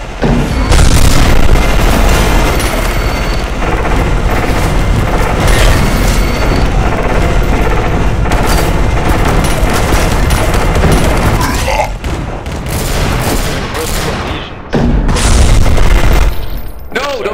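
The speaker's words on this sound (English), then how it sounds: "I just respawned and was shooting." Gunfire and explosions in the video game E.Y.E. Divine Cybermancy, a loud, dense barrage of booms and rapid shots running almost continuously, with a short lull near the end.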